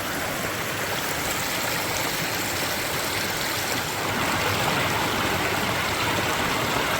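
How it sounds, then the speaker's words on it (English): A steady creek rushes and burbles without pause, a close, broad wash of flowing water that swells slightly partway through, with no voices over it. "I'm going to leave you with this beautiful creek here"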